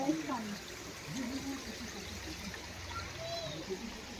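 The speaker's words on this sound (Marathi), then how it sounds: "12 महिने वाहत असणारा झरा" A year-round natural spring flows in a steady broadband wash of trickling water, with a voice talking over it near the start.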